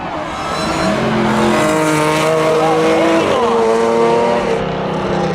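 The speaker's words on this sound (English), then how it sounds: "Gerard smokes the tires" Race car engines roar loudly at Seekonk Speedway as cars battle on the high and low lines through the turns, with a sustained squeal of tires under heavy engine drone and overlapping passes.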